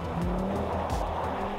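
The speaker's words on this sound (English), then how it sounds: "the engine will also rev all the way to 7000 RPM, accompanied by a soul-stirring 5-pot clamour" Engine note of a 2020 Audi RS Q3 with its five-cylinder engine, a loud, steady, gravelly drone with slight rising and falling pitch, heard close and continuous without talk.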